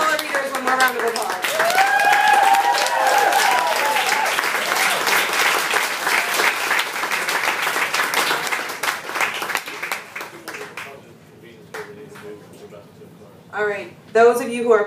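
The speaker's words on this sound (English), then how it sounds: "Give all our readers one more round of applause." An audience applauds readers at a reading event, a dense burst of clapping that holds steady for about ten seconds, then thins out as a voice speaks over the tail.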